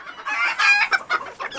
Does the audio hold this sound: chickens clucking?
yes